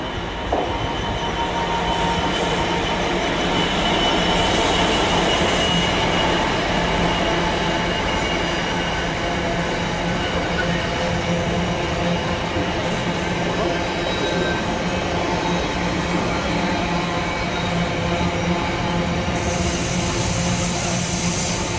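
British Railways locomotives roll past Nuneaton station in a procession, a loud continuous rumble of engines and rail noise with wheel squeal and steady droning tones throughout.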